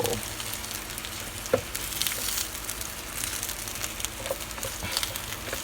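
Chicken thighs sizzling on a George Foreman electric grill, a steady dense crackle and hiss with scattered pops, close and continuous.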